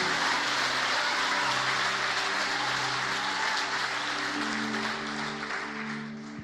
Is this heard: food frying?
no